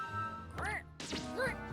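Quaxly, the duck Pokémon from the Pokémon Horizons anime, gives two clear, nasal cartoon quacks about a second apart, close and fairly loud, with no speech.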